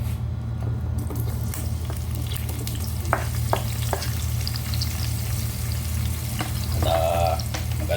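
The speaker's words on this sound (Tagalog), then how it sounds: "Dahil mainit na ang ano, ating kawali Lagyan na natin ang ating sibuyas" Onions hit a hot pan and fry with a continuous crackling sizzle, broken by scraping stirs and a few metallic clicks, with a low steady hum underneath.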